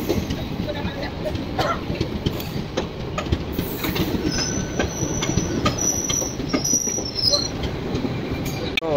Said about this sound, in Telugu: ఆఫ్టర్ 3 hours సక్సెస్ఫుల్గా ట్రైన్ అయితే వచ్చేసింది మనకైతే